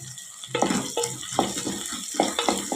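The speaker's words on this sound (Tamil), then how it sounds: "ஒரு பத்து பல் பூண்டு வந்து நச்சு வச்சுருக்கிறேன் அதை போட்டுக்கலாம்" Crushed garlic cloves fry in hot oil with softened onion or shallots and mustard seeds, a steady sizzle broken by repeated scraping strokes of a stirring spoon close by.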